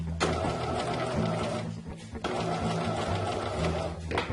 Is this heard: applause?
no